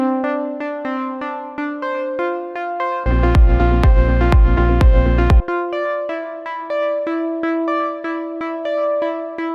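A bright Serum synth pluck preset plays a clear melodic line of short, ringing notes. Partway through, a heavy bass-and-drum section briefly joins under the plucks before the plucks continue alone.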